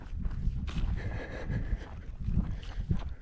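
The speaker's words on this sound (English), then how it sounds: "Getting a little bit of a wind now that we're getting more out in the open" Wind gusts buffet the microphone outdoors on an open stretch near the Elwha River below Hurricane Ridge, a steady low rumble with a few brighter rushing swells throughout.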